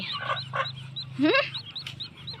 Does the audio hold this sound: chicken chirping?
yes